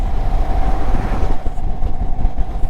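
Indian Chief 1900cc motorcycle engine under way, a loud continuous low rumble with a steady hum and wind rush, close and unbroken throughout.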